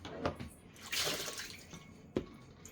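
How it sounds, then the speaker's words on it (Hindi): Water is emptied out of a food container in a home kitchen: a short, close splashy pour with a few drips before and after. "इसमें भी ना पानी इकट्ठा हो जाता है, इसको भी निकालना पड़ेगा पानी को।"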